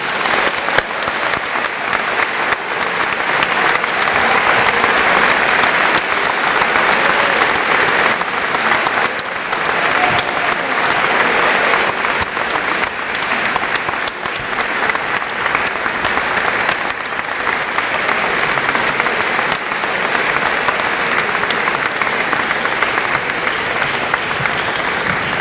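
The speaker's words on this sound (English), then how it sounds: "Please join me in a round of applause to thank him." Sustained, loud audience applause at a Washington and Lee athletics award ceremony, a dense, steady wash of clapping from a large crowd that carries on for the whole stretch with no voices over it.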